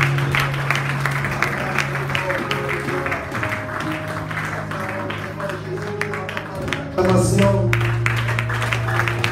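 Easter service congregation applauding and cheering in a church, a dense, steady wash of clapping and voices layered over sustained music for the whole stretch, loud and close.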